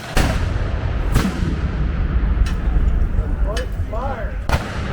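Historic artillery cannons fire in a demonstration at Jamestown Settlement, with several sharp booms spaced across a steady outdoor rumble, including one close, loud blast near the start and fainter reports later.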